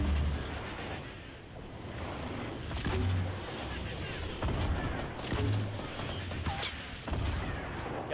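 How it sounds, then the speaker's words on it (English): Gunfire in the video game Fortnite: sharp shots crack out at irregular intervals over a dense, roaring background of wind-like noise. "Stop shooting at me, you little punk."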